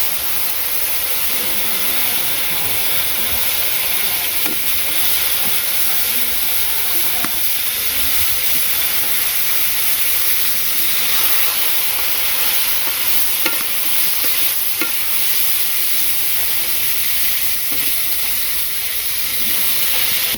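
Vegetables for a curry stirred in a hot pan just after frying fish, a steady loud sizzle and hiss running throughout with scattered scraping stir clicks, no talk.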